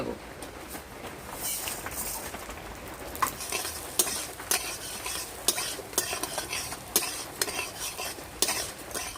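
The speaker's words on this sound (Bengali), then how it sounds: "মুগ ডাল ভেজে নিয়েছি" Moong dal frying in oil in a pan for chicken bhuna khichuri, with a soft steady sizzle beneath repeated sharp metal spoon scrapes and clinks against the pan, close and fairly loud.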